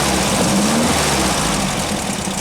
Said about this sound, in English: as I rev it up